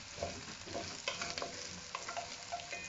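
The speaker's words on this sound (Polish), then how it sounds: "I trzymajcie to na dużym ogniu, żeby to się ładnie przesmażyło" Vegetable curry base frying on high heat with chili peppers, bay leaf, mustard seed and cumin, a dense continuous sizzle with light stirring clicks, close and steady.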